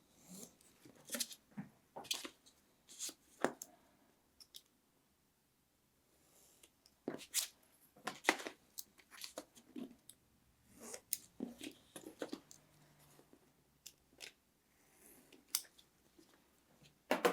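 Board being cut with a blade for a bookbinding box: a series of short, crisp scraping and snipping strokes in irregular bursts with brief pauses, close and fairly quiet, no talk.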